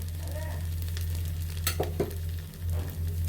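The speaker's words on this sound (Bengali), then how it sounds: "আমাদের চালগুলো ভালোভাবে ভাজা হয়ে গিয়েছে" Rice sizzling in a hot pan with raisins and salt for chicken biryani, over a low electrical hum, with a couple of sharp scraping stirs.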